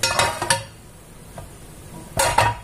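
A metal tawa griddle is set down over a cooking pan while making chatti pathiri, giving a few close metallic clanks and clinks in two brief bursts separated by a quiet pause.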